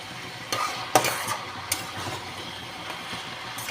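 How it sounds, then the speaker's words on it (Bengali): Vegetables stirred in an uncovered wok, a few scraping and clattering strokes of a utensil against the pan over a soft steady sizzle, close and moderately loud. "কড়াইয়ের ঢাকাটা একটু খুলেছি, আবার সবজিটাকে নাড়াচাড়া করে দিচ্ছি।"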